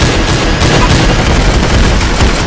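Rapid bursts of gunfire from the Roblox game Arsenal crackle loud and dense, overlapping shots and booms packed together with no pause across the short stretch.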